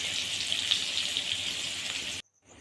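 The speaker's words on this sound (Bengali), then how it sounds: "আলুর দমের জন্য আলু ভাজাটা ভেজে নিচ্ছি" Potato pieces for aloo dum fry in hot oil, giving a close, steady bright sizzle for about two seconds before it cuts off abruptly.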